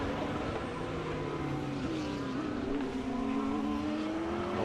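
A race car on its last lap of a SAGTRA race holds a continuous loud engine drone, its pitch dipping and rising as it works through the circuit.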